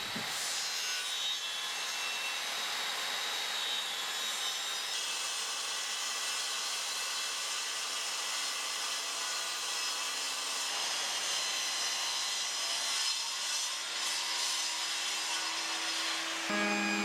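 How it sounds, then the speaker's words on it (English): Router fitted with an edge-trimming bit runs along a wooden coffee-table edge, giving a steady, continuous whirring and cutting rasp that holds for the whole stretch with slight shifts in tone, close and alone. "I'm going to go around with the router using the edge trimming bit with a perfect straight edge underneath, and just make sure that's really smooth"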